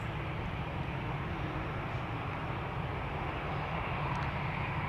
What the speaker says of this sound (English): It is Qatar flight 8206 to Doha coming this way.